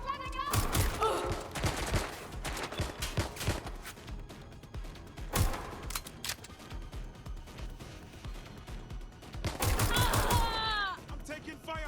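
Rapid bursts of automatic and single-shot gunfire ring out in the video game Watch Dogs: Legion. Volleys cluster at the start and the end, with sporadic shots between them, and in-game voices are heard amid the firefight.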